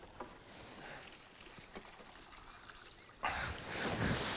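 Oars splash and dip in water at an uneven pace as a small boat with an outboard is rowed, then a louder rush of water near the end, with no voices.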